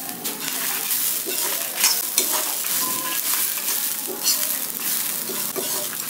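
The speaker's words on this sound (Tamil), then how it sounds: "இது நல்லா பொன்னீரம் ஆகிற வரைக்கும் வறுக்கணும்." Coconut, coriander seeds and dried red chillies dry roasting and being stirred in a pan, a steady close sizzle and scrape of a spatula running continuously with no talk.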